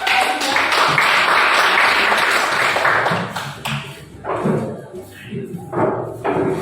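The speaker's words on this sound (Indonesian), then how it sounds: "beri tepuk tangan untuk kelompok 4" A classroom group applauds group 4 after their presentation: a few seconds of loud, close clapping with some thumps, then it breaks off into scattered claps and voices.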